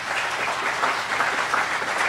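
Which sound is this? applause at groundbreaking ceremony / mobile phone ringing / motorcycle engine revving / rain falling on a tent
applause at groundbreaking ceremony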